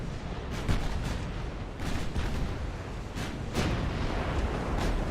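Naval gunfire from warships in Ultimate Admiral Dreadnoughts, a series of heavy booming salvos spaced irregularly over a constant low rumble of battle ambience, several shots landing close together.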